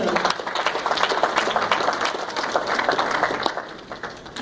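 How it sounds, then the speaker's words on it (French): Loud, dense clapping from a church congregation during a Sunday service in a new building, a steady wash of applause lasting several seconds with a few voices mixed in. "On applaudit très fort."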